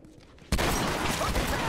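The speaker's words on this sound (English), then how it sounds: "Shotgun headshot from behind." A shotgun blast in The Last of Us online multiplayer game, a single sudden loud report after a quiet moment, followed by dense sustained gunfire and noisy battle sounds.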